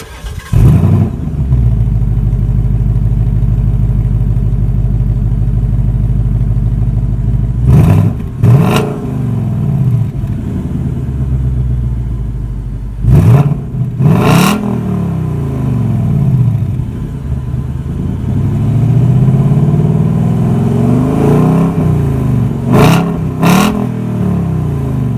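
A 2018 Ford Mustang GT with a stock 5.0 engine and quad exhaust idles loudly and close, then gets blipped in several sharp revs that swell and fall back, with a cluster of quick revs near the end.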